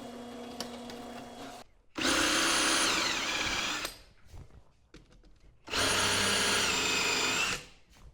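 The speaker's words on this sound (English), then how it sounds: "I still needed to mark out and drill for the threaded inserts" A power drill bores holes for threaded inserts in a butcher block, running in two steady bursts of about two seconds each, separated by quiet handling sounds.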